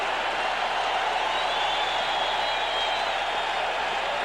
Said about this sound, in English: you can hear the crowd get behind Dwight Gooden